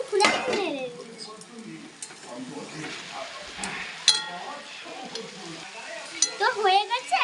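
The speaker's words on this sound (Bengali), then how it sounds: "তো ঢাকনাটা আমি খুলে নেড়ে দিচ্ছি।" Pumpkin stem curry is stirred in a pot after the lid comes off, with repeated close scraping and clinking of a spoon against the pot and a faint sizzle underneath, briefly accompanied by talk.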